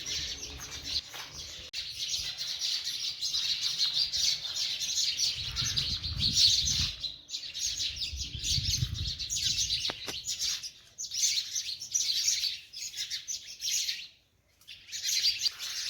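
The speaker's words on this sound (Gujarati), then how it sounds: "પાછળ બેકગ્રાઉન્ડમાં તમે ચકલીનો ને પક્ષીઓનો અવાજ આવતો છે." Sparrows and other birds chirp continuously in the background on an evening outdoors, with dense, high, overlapping tweets that drop out briefly near the end, with no talking.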